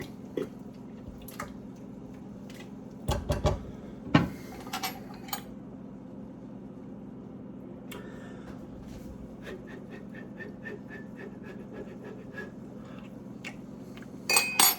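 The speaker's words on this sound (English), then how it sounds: "Give that a good stir" A spoon scrapes and clinks against a pot of moose bolognese sauce in a few short bursts, with faint bubbling and drips in between against a low kitchen hum.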